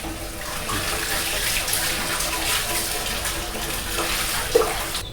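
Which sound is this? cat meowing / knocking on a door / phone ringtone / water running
water running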